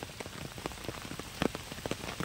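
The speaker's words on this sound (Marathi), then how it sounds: "पाऊस बघा किती आलाय" Heavy rain patters densely on a hard surface beside a pond embankment, with sharp drops tapping irregularly over a constant wash, somewhat distant and soft.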